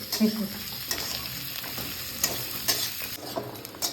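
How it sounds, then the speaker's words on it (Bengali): Onions fry in a pan with a continuous close sizzle, broken by occasional stirring scrapes and clinks, with no speech. "মোটামুটি ভাজা ভাজি চললো পেঁয়াজ"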